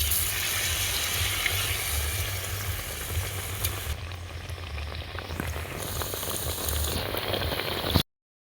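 Potato bread pieces frying in hot oil give a steady, dense sizzle that continues evenly throughout, close and moderately loud, with no talking.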